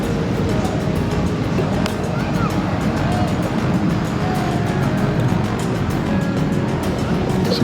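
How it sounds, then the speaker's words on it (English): Big ocean waves break and surge continuously in a broad, roaring wash on the surf beach at Playa Zicatela in Puerto Escondido, close and loud with no distinct pauses, alongside some faint background voices. "Some big waves today."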